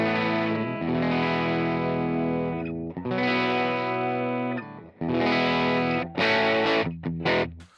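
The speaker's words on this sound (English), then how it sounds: "Here is the clean tone on a bridge pickup." Electric guitar on its bridge pickup with a clean tone through Line 6 Helix Native, playing loud sustained chords that ring out with brief gaps, then ending in a few short, choppy stabs, with no talking.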